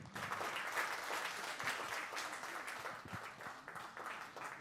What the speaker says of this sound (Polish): Poproszę o brawa dla artysty.